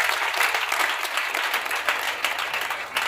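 Congregation at a church evening service applauding Jesus, steady broadband clapping from many hands sustained throughout with no break.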